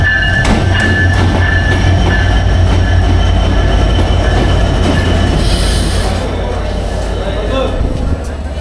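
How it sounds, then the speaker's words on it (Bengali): A loud train rumbling steadily nearby at Darshana railway station, with continuous low mechanical noise, high wheel squeal, and a brief hiss, while voices murmur faintly. "ট্রেন প্রস্তুত, সময় অপেক্ষা করছে।"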